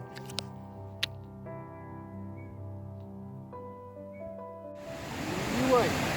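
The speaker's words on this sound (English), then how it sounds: "Here we go, the 24-meter Caribou Falls." The 24-meter Caribou Falls cascades on a river. A broad rushing roar of falling water swells in near the end, after a quieter tonal passage.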